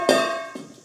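Stainless steel bowls clink together in a home kitchen, two quick bright metallic strikes with a ringing tone that decays, heard close and alone.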